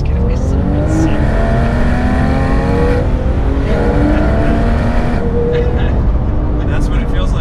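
A Porsche 997.1 GT3 RS sports car engine accelerates loudly and close, its pitch rising through several climbs and gear changes, with a voice faintly audible beneath the roar.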